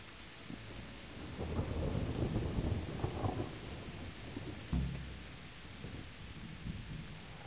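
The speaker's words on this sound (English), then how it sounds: "Might want to get out of the rain" Rain and rolling thunder in the medieval game Kingdom Come: Deliverance, a low rumble swelling and fading over steady rainfall, with a second duller thunder roll later, moderately loud and without voices.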